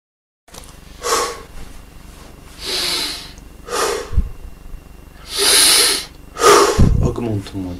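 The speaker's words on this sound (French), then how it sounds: "Inspire par le nez, expire par la bouche." Slow, deep breathing in through the nose and out through the mouth during a yoga breathing exercise, heard as five or six close, airy breaths at a steady pace.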